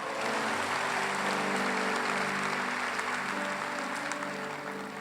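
A church congregation applauding during a worship service, steady dense clapping that holds loud and even throughout with no gaps.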